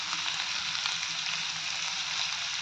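Green chilies frying in a pan give off a steady, close hiss and sizzle with light stirring scrapes underneath, at moderate loudness.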